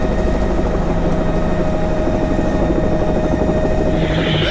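A helicopter flies low and close beside a racing twin-turbo Porsche GT3 RS, its rotor and engine roar a loud, steady wash throughout, with a rising hiss near the end.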